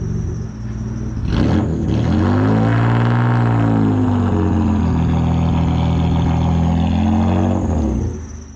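Dodge Stealth (3000GT) engine with a stainless exhaust revs up and eases back, then holds a steady high-pitched drone. The sound is loud and close, with no voices.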